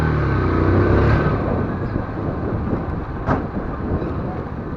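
A 150 cc Aprilia motorcycle engine hums low and steady, rising briefly early on, under heavy wind rush as the bike is ridden, with a short sharp burst near the end.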